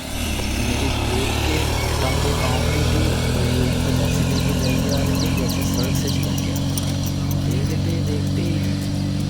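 A motorcycle crosses an old British-era bridge in a reserve area, its engine droning loud and steady throughout with rattling and rumble from the crossing.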